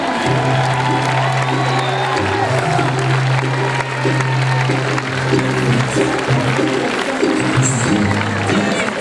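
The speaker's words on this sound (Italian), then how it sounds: "un grande applauso alla contrada Vicente con Silverio Andrea e l'Angilotti Damiano." A crowd applauding and cheering at a village palio, with steady clapping throughout and background music tones underneath.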